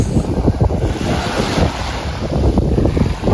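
Sea waves at a beach in Kobe, Japan, washing in with a continuous rushing surf, buffeted by heavy wind noise on the microphone, close and loud with no talking.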